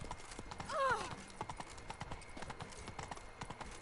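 Roach, Geralt's horse in The Witcher 3 video game, clip-clops along in a steady trotting rhythm of close hoof strikes, with a brief neigh early on over quiet background ambience.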